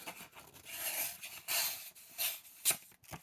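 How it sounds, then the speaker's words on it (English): A knife blade drawn in several quick, rasping strokes across a leather strop, close and fairly quiet, each pass a short scraping swish in an uneven rhythm with no talking. "Quick couple of strops on that."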